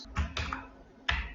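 Typing on a computer keyboard while entering data in Excel: three short clusters of close, crisp key clicks separated by brief pauses.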